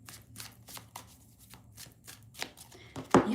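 Tarot cards being shuffled quickly by hand, a series of soft, crisp riffling bursts at a fast uneven rhythm, close and fairly quiet, ending in a sharper snap.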